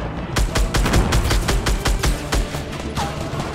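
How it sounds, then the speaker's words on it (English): Rapid gunfire in the Fortnite Battle Royale video game: a loud, steady string of close shots, about a dozen sharp reports in quick succession. "He's shooting me, help!"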